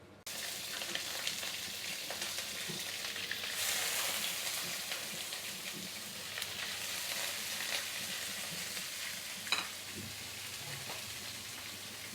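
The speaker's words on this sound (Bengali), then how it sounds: "এবার কড়াইয়ে সরিষার তেল দিয়ে দিব মাছ কষানোর জন্য" Fish fries in mustard oil in a wok, giving a soft, steady, crackling hiss that runs unbroken with a few faint stirring clicks and no voices.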